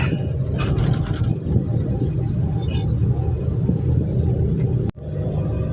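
Steady low rumble of road traffic from inside a moving car on a drive home toward Medan, with trucks, angkot minibuses and other cars around; continuous and fairly loud, with a brief dip near the end.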